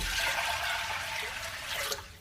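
Water pours steadily from a tap into a pot of rinsed dry beans, a continuous close rushing and splashing that fades slightly toward the end, with no voices over it.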